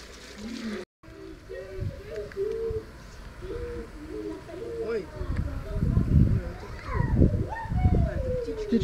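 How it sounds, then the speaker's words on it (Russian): Birds, likely doves, give repeated soft low cooing calls beside a spring-fed pool at Ein Haniya, with louder rustling and movement noises building later. "Птички, да, Гуга?"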